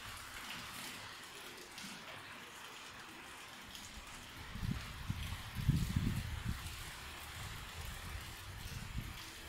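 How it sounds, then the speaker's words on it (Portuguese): Soft, steady rain falls with mist in a hilltop town at Serra da Ibiapaba, a faint wide hiss of drops with a brief louder low rumble in the middle and no talk. "Você escuta o barulho da chuva."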